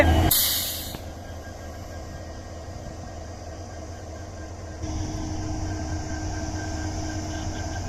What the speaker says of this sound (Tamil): சவுண்டு கேக்குதா இன்னும் நிற்கிறாரு பாருங்க டபிள்யூ டிபி ஃபோர் டி